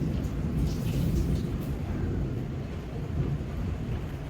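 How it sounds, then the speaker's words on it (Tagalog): An Australian thunderstorm sends deep, continuous thunder rumbling at a distance over a steady wash of rain, loud and heavy without any voices. "kulog at kidlat ang nararanasan natin ngayon"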